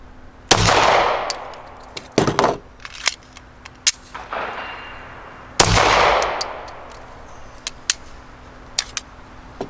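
A handgun firing during a drill, with sharp loud reports, then metallic clatters and clicks as the empty magazine drops and a fresh one is seated, followed by more shots and clicks.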